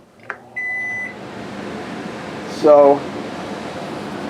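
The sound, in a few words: gas oven igniter sparking to light burners in RV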